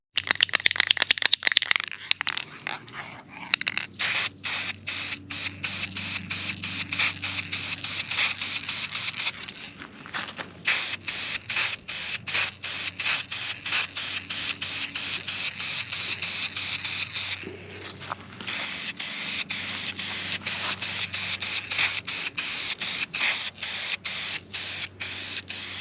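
Spray paint hisses from an aerosol can onto steering brackets for a Hemi-swapped LJ, in long steady bursts with brief pauses between them, close and loud with no talking.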